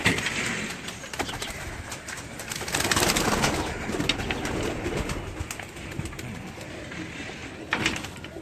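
A female racing pigeon coos softly on a rooftop, its low murmuring set against steady outdoor noise and a few light knocks.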